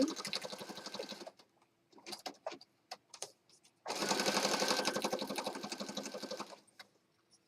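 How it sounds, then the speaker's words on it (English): A sewing machine stitches a ribbon tab down around the top of a handmade Christmas journal, running in two bursts of rapid stitching with a pause and a few light clicks between them, close and moderately loud. "we're going to stitch around the top here. Sewing our little ribbon tab down"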